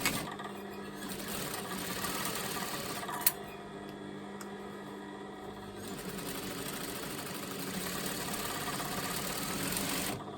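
A home sewing machine stitches a top, a steady mechanical hum and whir running continuously near the mic, with a brief sharp click partway through.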